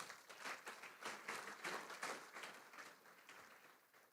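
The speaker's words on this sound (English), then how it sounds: "Can you please join me in giving them a big round of applause?" Audience applause fills an awards night for AFL Queensland's medal presentation, a dense, steady wash of many hands clapping at moderate level with no talk over it.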